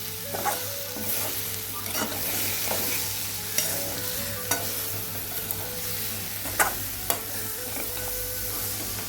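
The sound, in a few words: stirring ambarella fruit with sugar in a pan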